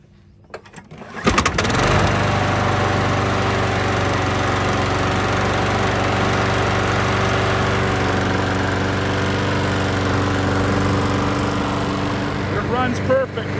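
A Troy-Bilt lawn mower engine, just fitted with a replacement carburetor, catches on the first pull after a brief quiet moment and then runs at a steady, loud, droning idle close by for the rest of the time.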